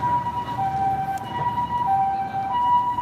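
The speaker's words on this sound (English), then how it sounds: "Ambulance. I swear. Ambulance." An ambulance siren wails on a Tokyo street in Ginza, a loud, near two-tone cycle that alternates steadily over low traffic rumble.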